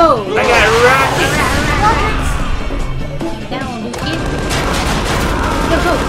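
Rockets and gunfire in Tales from the Borderlands, a loud, dense barrage of shots, blasts and crashes throughout, layered with swooping synthetic effects and bursts of excited voices.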